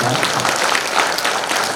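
Audience applause at a book launch event, a steady dense wash of clapping from a seated crowd filling the whole moment at even loudness.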